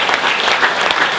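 Audience at a film music event honoring M. S. Viswanathan breaks into steady, dense applause, many hands clapping continuously and close for the whole short moment.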